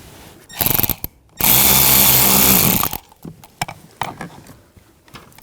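A screw is driven in with a power driver while a blower motor is installed in a 2009-2017 Volkswagen Tiguan: a short buzz, then a loud two-second whirring run that stops, followed by light clicks and handling noises.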